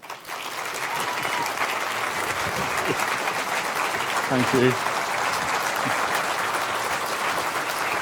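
A live audience at the FameLab International final applauds a host with sustained, even clapping, while a voice briefly speaks over it.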